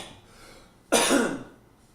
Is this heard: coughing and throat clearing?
yes